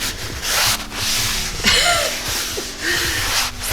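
Cloth rubbing across stained wooden stairs to wipe off excess wood stain, a close, steady scrubbing hiss broken into several strokes with brief pauses between them.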